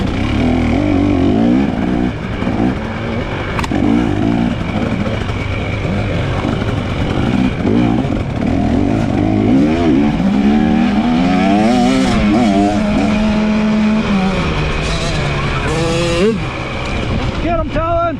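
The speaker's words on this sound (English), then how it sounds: "he's on an 85cc bike" An 85cc dirt bike racing in a hare scramble, the two-stroke engine revving and wailing through shifts, loud and continuous alongside other bikes, with people talking and shouting over it.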